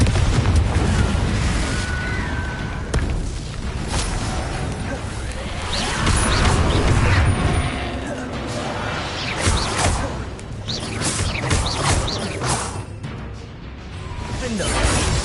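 Repeated Confringo fire-blast spells in Hogwarts Legacy, with loud booms and whooshing bursts going off one after another alongside crashing impacts, mixed with game sounds and a voice at times.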